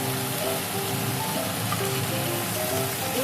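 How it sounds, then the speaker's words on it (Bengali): Fried bitter gourd pieces added to a sizzling pan while cooking Bengali shukto, producing a steady, close crackling hiss of hot oil with faint tonal sounds underneath. "আমি ভেজে রাখা উচ্ছেগুলো দিয়ে দেবো।"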